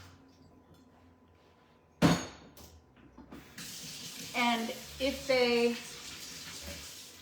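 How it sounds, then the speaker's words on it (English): Fresh water running from a kitchen tap into a vase for peonies; after a sharp clunk, the stream flows steadily and close at moderate volume, with brief speech over it. "let me just put a little fresh water in here"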